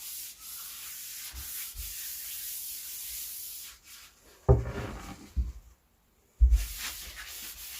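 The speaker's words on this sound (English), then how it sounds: "now just doing a quick coat of Danish oil" A cloth rubbing Danish oil onto a wooden chessboard, heard as a soft steady scrubbing hiss, broken near the end by a few louder knocks and handling noises, with no talk.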